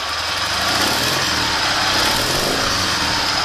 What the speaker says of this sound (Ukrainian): нас зараз двигун працює на дещо підвищених холостих обертах